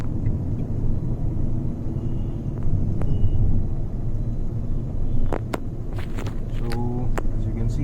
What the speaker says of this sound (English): Now I am depressing the accelerator a bit more aggressively, and you can see the response